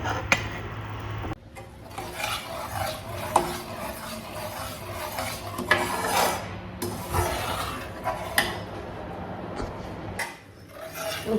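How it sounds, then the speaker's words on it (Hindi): Food being stirred and sautéed until brown in a home kitchen, with steady scraping and rubbing strokes of a utensil against the pan, close and continuous, punctuated by occasional sharper knocks. "इसको अच्छे से भूनना है जब तक कि अच्छा ब्राउन नहीं होने लग जाता है।"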